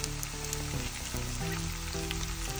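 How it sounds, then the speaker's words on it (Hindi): Cauliflower florets for gobi manchurian fry in a little oil in a pan, giving a steady, dense sizzle that runs without a break, with musical tones sounding over it. "फ्लॉवर आता आमी हे सगळें भाजून घेवया"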